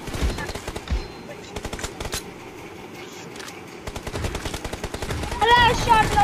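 Gunfire in the battle game BGMI, with bursts of rapid automatic shots and scattered single cracks, loud and close, pausing briefly midway, with a short whistling electronic tone near the end.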